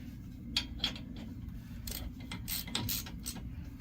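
A ratchet snugs up bolts during a front brake pad and rotor job on a 2019 Lexus RX 350, with faint, quick clicking bursts over a low background hum, no talk.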